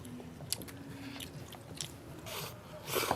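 People eat soft egg-and-scallion pancake rolls at close range, with wet chewing and biting, a few crunchy bites, and light scraping sounds, no talking.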